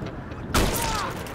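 A sharp sniper gunshot cracks out in the video game GTA V, followed by a decaying boom and ringing tail.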